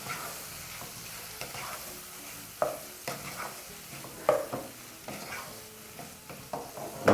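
Liver frying in a pan with pepper and salt is stirred, making a soft continuous sizzle broken by a few louder spatula scrapes and clinks against the pan.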